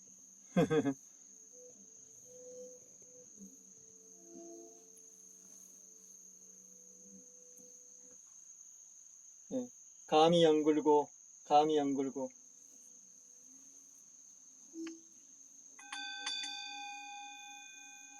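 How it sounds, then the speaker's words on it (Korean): Autumn crickets chirp in a steady, high, continuous trill throughout, heard near a rural Korean home beside a valley stream, with a few short bursts of speech and faint chimes. "귀뚜라미 울죠? 귀뚜라미."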